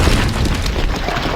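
A single heavy, booming explosion in The Darkness video game, loud and close, with a rumbling tail that fills the short moment.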